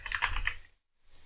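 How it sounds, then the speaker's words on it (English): A computer keyboard rattles out a pip install command for the Azure Text Analytics Python library, a quick cluster of crisp close keystrokes that stops, then one or two more clicks after a brief silence. "To install Azure Text Analytics Python client library, I will type the command pip install"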